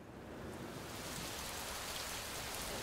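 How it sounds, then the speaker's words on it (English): Steady rain pours down as a dense, even hiss of countless drops, close and continuous with no voices. "The sound of the rain is so soothing."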